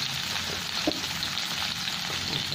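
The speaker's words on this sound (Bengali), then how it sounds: "একটু নুন দিয়ে দিচ্ছি, একটু হলুদ দিয়ে হালকা করে ভেজে নিই।" Sliced pointed gourd frying with salt and turmeric gives a steady, even sizzle throughout, close and moderately loud, with no voices.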